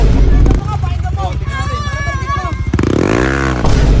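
A Yamaha Aerox scooter starting up: a brief cranking rattle, then the small engine catches and revs in a rising, fluttering note, loud and close, with people talking nearby.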